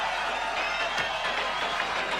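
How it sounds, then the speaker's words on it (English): An NBA basketball crowd from a 1997 game cheers as Dennis Rodman scores his first point, a steady, dense roar of many voices that fills the arena throughout without a break. "Gets his first point and gets a cheer from the crowd."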